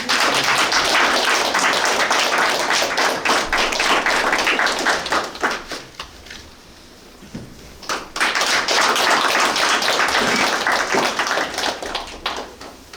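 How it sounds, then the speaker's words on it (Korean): A church congregation claps loudly to welcome a preacher, a dense burst of applause that fades briefly around the middle, then swells again and trails off. "큰 박수로 환영합니다."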